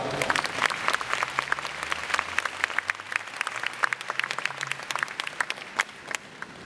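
Steady audience applause at a concert, a dense crowd clapping at moderate distance, with a few voices mixed in underneath.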